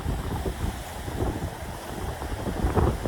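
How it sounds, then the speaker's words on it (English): Large ocean waves rolling in and breaking on the shore at Tuktoyaktuk, a continuous rough wash with surges, heavily buffeted by wind noise on the microphone. "The beautiful calm ocean is now huge waves coming in, crashing in."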